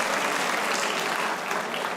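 Studio audience clapping on a comedy talk show, a short burst of dense, steady applause, loud and close with no voices over it.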